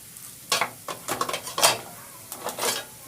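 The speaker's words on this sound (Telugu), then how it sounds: "మినపప్పు వేగుతూ ఉందండి." Urad dal frying in a pan for Nellore-style roti pachadi, with short bursts of sizzling and scraping as it is stirred, several irregular crackling strokes close up over a quiet background.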